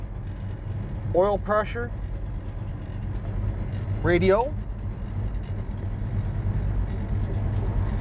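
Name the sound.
1967 Chevrolet Malibu engine running after start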